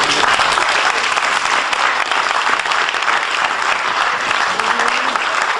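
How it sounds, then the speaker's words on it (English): An indoor audience breaks into loud, dense applause as a volunteer is called up to the stage, the clapping steady and close for the whole stretch with no pauses. "A nice round of applause."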